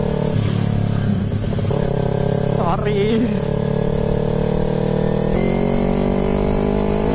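A loud motorcycle with a noisy aftermarket exhaust rumbles and revs close by, its exhaust droning steadily throughout, with a brief spoken word early on.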